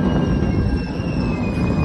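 Steady rumble of a moving train from inside a carriage, dense low rolling noise with thin high whining tones above, continuous throughout.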